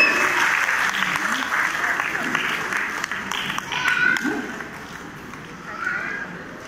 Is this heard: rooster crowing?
no